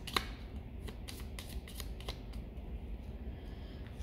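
A deck of playing cards is shuffled up close, giving a quick run of crisp papery riffle bursts over about four seconds with no talking.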